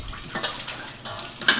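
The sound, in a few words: washing dishes, pots and pans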